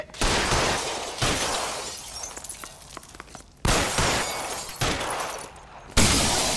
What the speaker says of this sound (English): Empty a full round to that guy.